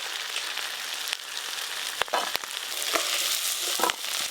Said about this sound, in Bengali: এই যে বুজবুজ করছে তেলটা, এইগুলো সব কাঁকড়ার ঘি